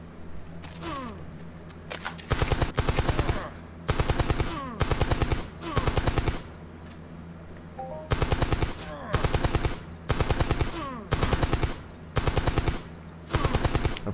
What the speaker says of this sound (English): Now today we're gonna be using Grindhouse guns.